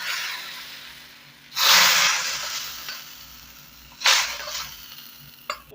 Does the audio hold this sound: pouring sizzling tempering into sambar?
yes